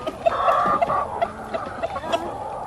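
Hens and a rooster in a free-range backyard flock cluck steadily and close by, with overlapping calls and short sharp clucks throughout.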